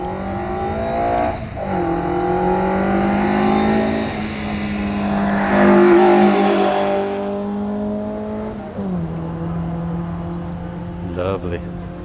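A Triumph Herald pulls away at the Shelsley Walsh hill climb, its engine revving up through the gears and shifting with clear pitch drops, moderately close, while people talk over it.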